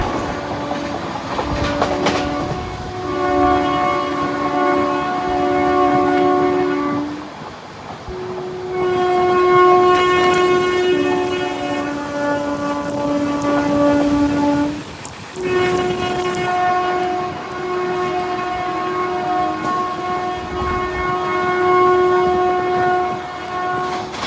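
A train rumbles steadily past close by in India, its loud horn sounding in long, repeated blasts over the rolling noise of the wheels.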